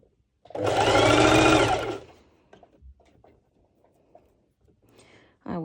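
A sewing machine stitching bikini fabric back and forth runs in one loud, close burst of about a second and a half, then stops, followed by faint handling noises and a short mechanical whir at the end.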